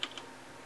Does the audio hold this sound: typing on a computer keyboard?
yes